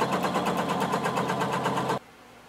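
A sewing machine runs a quick basting stitch through blazer fabric, a steady fast mechanical whir with a regular stitching rhythm, close and loud for about two seconds before stopping abruptly into near silence.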